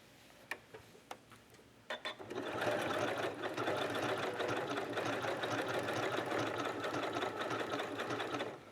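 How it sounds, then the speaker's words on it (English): Sewing machine running a decorative stitch on a quilt appliqué circle; a few soft clicks give way to a steady, close mechanical whirring with rapid ticking needle strokes. "let's just take this to the machine and do a little decorative stitch to get it in place"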